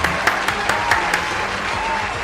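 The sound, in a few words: studio audience applause on quiz show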